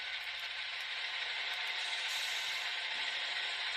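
Manual air compressor sound from an ESU LokSound decoder in an HO Walthers E9 model locomotive, a steady rushing hiss with faint rhythmic mechanical pulsing, played alone at low volume.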